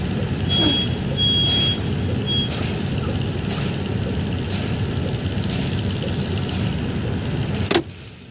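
Tractor-trailer air brakes are fanned during a pre-trip brake test until the tractor and trailer spring brakes pop out at about 20 PSI. Regular sharp air hisses sound over a steady truck idle, ending in a louder burst near the end.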